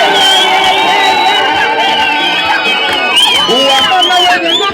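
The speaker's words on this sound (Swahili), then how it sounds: "Kama umebarikiwa piga vigelegele" A church congregation fills the space with loud, sustained ululation and cheering, many high trilling voices overlapping in a continuous celebratory din.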